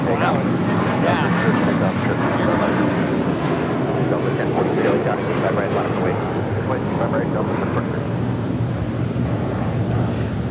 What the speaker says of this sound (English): This is American Airlines Flight 307 taking off to JFK on an A321.